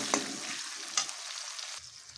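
A medium onion and two green chillies fry in oil with a soft, even sizzle, broken by two quick spatula clicks before the hiss drops away.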